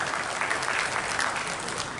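An audience at an Indonesian formal event claps steadily, a dense sustained burst of applause filling the short stretch with no voices over it.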